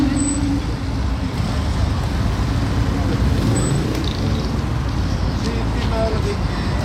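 Vintage Porsches and a Ferrari Dino moving through congested Paris traffic, a dense, continuous low roadway rumble from nearby engines with faint high squeals; no clear distinct car passes.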